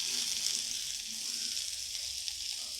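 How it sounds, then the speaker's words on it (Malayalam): A small onion dropped into hot oil in a pan sizzles with a steady, bright hiss, close and continuous throughout, with no voices. "അപ്പോൾ നമുക്ക് അതിലോട്ട് സബോള ഇട്ട് കൊടുക്കാം."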